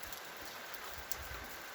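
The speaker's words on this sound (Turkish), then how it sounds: "Çok güzel yağmur yağıyor." Steady rain patters continuously on a surface, a dense even hiss with no voices.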